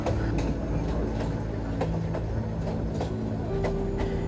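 Rangpur Express passenger train at Bogura station, with a steady low rumble of wheels and carriages, faint repeated clicks over rail joints, and a continuous close, fairly loud hum throughout.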